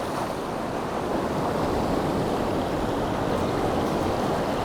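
Ocean surf washes steadily onto the shore, a continuous close roar of breaking waves with no clear gaps, with wind buffeting the microphone.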